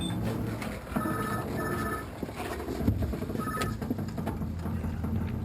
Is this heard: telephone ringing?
yes